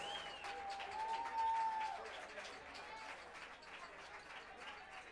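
Audience at a jazz jam session in a club applauds the musicians, a faint, distant patter of clapping mixed with crowd murmur and a brief tonal sound early on.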